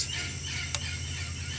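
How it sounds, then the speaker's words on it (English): Parrots call faintly in the distance in a damp, humid Panama rainforest at morning, with one brief call standing out against a dense, steady hiss of forest ambience. "You can hear the parrots in the background here now."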